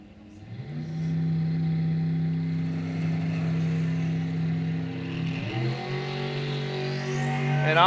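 A rear-engine dragster sits in the right lane at a bracket-series drag strip, its engine giving a steady, loud harmonic drone that shifts and climbs in pitch near the end as the car launches.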